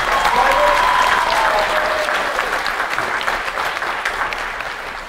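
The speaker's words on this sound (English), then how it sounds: "I want to give Fred Seibert a big round of applause" An audience at a convention panel breaks into steady, dense applause that holds strong, then gradually tapers off toward the end.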